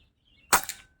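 A single sharp air gun shot, a lead pellet fired into a wall, cracks out briefly and crisply in an otherwise quiet room.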